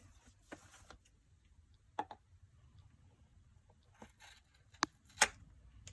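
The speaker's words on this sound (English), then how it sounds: "And then I'm going to trim these off with scissors." Scissors trim adhesive command strips in a quiet room, producing a few sharp, close snips and clicks scattered irregularly among soft handling sounds.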